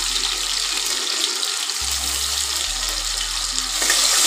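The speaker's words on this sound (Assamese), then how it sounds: "এতিয়া মই আলুটো ফ্ৰাই কৰি ল'ম।" Potato pieces frying in hot mustard oil, a steady broadband hiss and sizzle with a low hum running underneath, continuous and close, with no voices.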